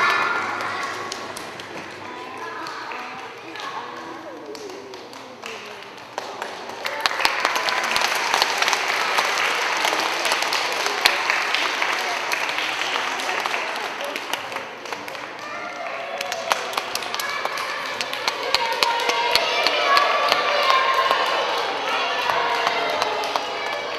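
An audience claps after a children's puppet show, Kolontos Palkó, performed by a kindergarten puppet troupe: the applause starts softly, then swells into a sustained, dense clatter of many hands in a room, with some voices mixed in.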